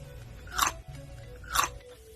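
Two crisp, crunchy bites into a garlic dill pickle about a second apart, close up, with quiet chewing between them and no talking.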